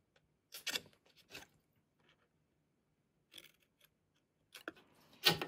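Scissors snipping card stock for a pop-up card holder, with a handful of short, close crisp cuts spaced out in irregular bursts and near silence between them.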